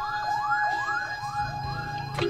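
A fire truck siren wails in rapid repeating rising sweeps, close and steady over low engine rumble, with a short blast near the end.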